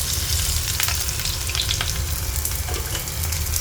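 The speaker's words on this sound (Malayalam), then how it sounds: "സവാള ചേർത്തൊന്ന് വഴറ്റി കൊടുക്കണം" Dried red chillies and onion sautéing in hot oil make a dense, continuous loud sizzle with faint crackles and stirring, close up and with no speech.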